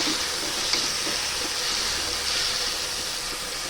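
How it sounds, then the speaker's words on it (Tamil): Tomatoes sauté in a hot pan with curry leaves, giving off a steady, even sizzle and crackle with faint stirring scrapes, close and continuous with no voices. "இப்போ நம்ம தக்காளி சேர்த்துக்கிடலாம். நல்லா தக்காளி வதக்கிடலாம்."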